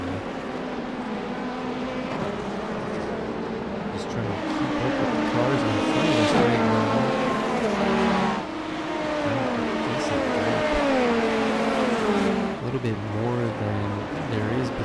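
Engine drone from LMP2 prototype race cars in the iRacing sim during an IMSA race, a steady loud roar with shifting pitch as cars accelerate and pass, running under continuous talk.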